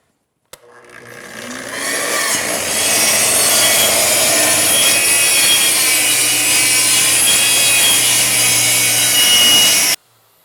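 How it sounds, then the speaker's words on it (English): A plunge saw rips plywood along the grain, spinning up abruptly and then holding one long, loud, steady cutting whir before stopping sharply, with no one speaking over it. "I'll turn around and actually rip the plywood pieces to the depth that they need to be"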